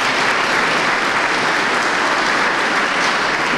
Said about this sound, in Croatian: dočekajmo ga jednim pljeskom